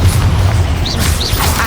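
Explosive Confringo blasting spells in Hogwarts Legacy combat, heavy booming bursts with rising whooshing spell effects layered over a deep rumbling low end, loud and close.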